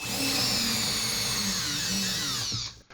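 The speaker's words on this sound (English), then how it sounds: "You might just try driving your screw straight into the drywall" A power drill drives a screw straight into drywall, a loud, close, continuous high whir with a steady pitch that holds for over two seconds and then cuts off abruptly.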